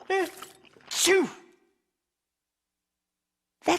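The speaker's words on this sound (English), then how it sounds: "That's one big sneeze." A cartoon character gives a big sneeze in two loud voiced bursts, close up, then silence and a short sharp sound at the end.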